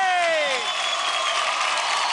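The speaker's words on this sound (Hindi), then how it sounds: "जोरदार तालियां हो जाए" Steady applause from a dance-competition studio audience fills the clip, a dense wash of clapping with a brief whistle-like tone sweeping down at the start.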